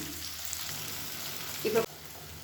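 Tomato and dried red chillies sauté in a pan for a spicy garlic chutney, a close, steady sizzle with a brief louder clatter just before it drops away.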